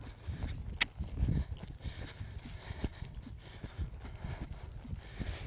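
Horse hooves clip-clopping in a steady walking rhythm, close by, with faint background noise and no talking.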